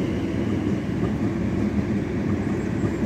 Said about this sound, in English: wait for the train to go past